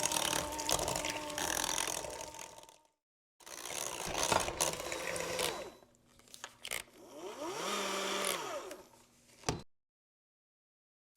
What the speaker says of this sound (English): Now I'm gonna mix this real well.